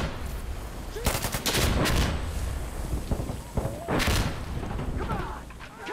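Mortar strike explosions in Insurgency: Sandstorm boom loudly in an urban battle, two heavy blasts roughly three seconds apart amid scattered gunfire and thuds, with faint radio-like voices in the mix.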